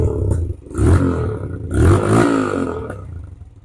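Motorcycle exhaust revved up while parked, two loud throttle bursts rising and falling close by, each followed by a brief dip back toward idle.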